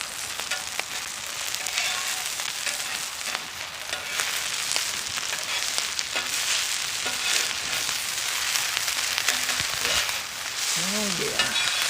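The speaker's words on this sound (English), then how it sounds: "You can hear it start frying up." Food frying in coconut oil on an outdoor flat top grill, a steady close sizzle and crackle running the whole time with scattered pops.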